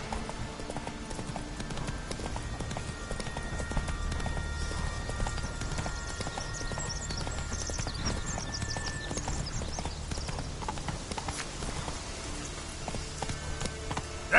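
Hooves of Roach, the horse from The Witcher 3, trot in an even rhythmic clip-clop under a dense layer of game music and ambient sound, close and sustained throughout.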